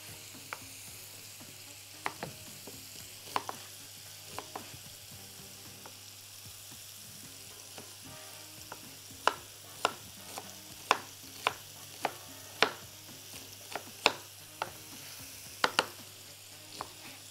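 Diced vegetables sizzle with chicken in a hot pan, a steady soft fry broken by many sharp clicks and scrapes as the food is stirred, close by and with no speech.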